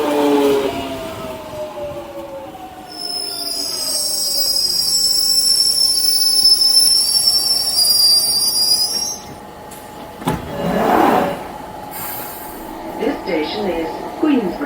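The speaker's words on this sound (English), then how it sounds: "I'm going to hop on this train towards Stanmore" A London Underground Jubilee line train of 1996 tube stock with a 2019 defect runs towards Stanmore, its wheels squealing loudly in long, high, steady tones, then fading into rumbling carriage noise and rattles as it slows.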